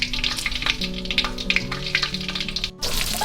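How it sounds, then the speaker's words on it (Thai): A shrimp omelette fries in hot oil, giving a dense, close crackling sizzle with occasional sharper pops and light scraping, steady throughout before a short break near the end. "ทริคการทอดไข่เจียวนะคะ"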